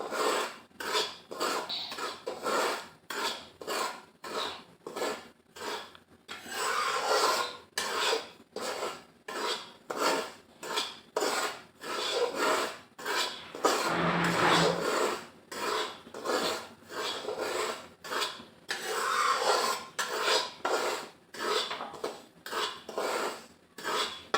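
Semolina dry-roasts in a pan with no ghee, and a utensil scrapes through it in regular rasping strokes about once a second, close and distinct over a quiet background.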